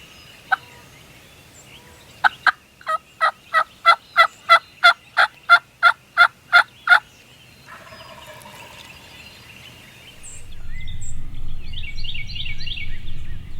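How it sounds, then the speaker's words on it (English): A young male wild turkey, a jake, gobbles during a Tennessee spring hunt: a rapid, evenly spaced burst of about a dozen sharp, rattling notes at moderate distance, followed by quieter calls and rustling. "he's gobbling at everything we're throwing at him."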